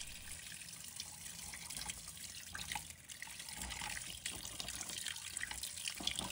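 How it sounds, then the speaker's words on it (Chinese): Scallops are rinsed under a running kitchen tap, a steady close hiss of flowing water with light splashing and trickling as the shellfish are washed, with no talking. "用流动水把扇贝清洗干净"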